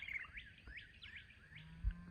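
A purple martin, probably a female perched by a row of martin houses, gives several quick chirps in a quiet outdoor spot. The calls are faint and come in a loose series with no talking.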